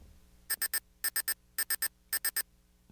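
An electronic warning signal sound effect plays as four evenly spaced bursts of three rapid high beeps each, clean and loud over a quiet background.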